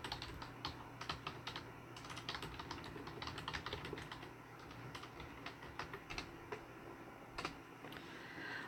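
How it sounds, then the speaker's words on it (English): Typing on a computer keyboard, a quiet, continuous run of close key clicks at an uneven rhythm with occasional louder taps, alone without speech. "I do type with two hands, Jim."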